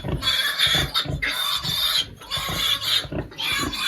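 Piglets squeal in loud, shrill bursts, several overlapping cries repeating in quick succession with short breaks between them.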